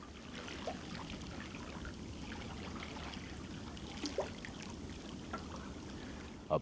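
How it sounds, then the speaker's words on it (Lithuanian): Water flows steadily over a small dam in Kretinga, Lithuania, making a faint continuous rushing with a few soft splashes in a quiet setting. "Jūs girdit vandens garsą?"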